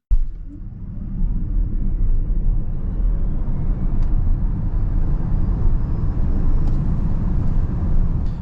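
An electric car accelerates hard on a road such as a German Autobahn, giving a loud, continuous low rumble of tyre and road noise that holds steady for several seconds, up close.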